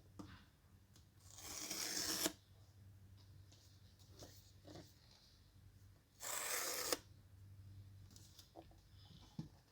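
Packaging on a 2022 iPad Pro 11-inch M2 box is torn open in two quick, close ripping bursts separated by quiet rustling, with a low hum underneath.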